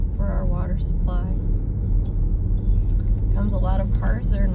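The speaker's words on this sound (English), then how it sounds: "Comes a lot of cars" Steady road rumble from a car interior as several cars go by on a street leading into a small neighborhood, a continuous low drone with a person talking over it.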